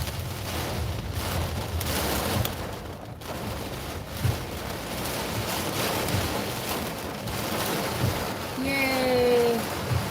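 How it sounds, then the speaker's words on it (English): Heavy rain pounds a car on the road as it drives through a wall of rain with the windshield wipers running, a dense steady hiss and drumming under road rumble, with a faint voice. "And there's the wall of rain."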